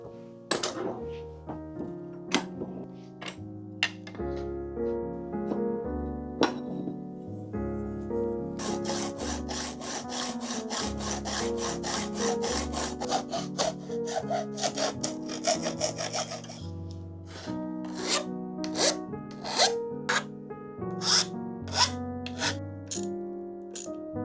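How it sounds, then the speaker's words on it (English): An IKEA cabinet handle is sawn in half by hand, close rhythmic back-and-forth rasping strokes that start slow, speed into a rapid steady run, then slow to separate strokes. "I've only got one IKEA handle left, so I'm gonna cut it in half."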